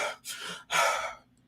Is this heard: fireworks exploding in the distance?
no